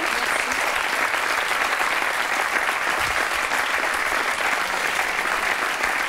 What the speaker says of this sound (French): Je voudrais juste vous applaudir